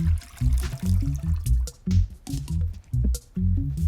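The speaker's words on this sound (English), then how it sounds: "Now I'm just going to fill this and top this off with water." Water is poured into a pot of soup stock made with pork ribs, cabbage and rice. Close, steady gurgling rises and falls in rhythmic, hollow glugs.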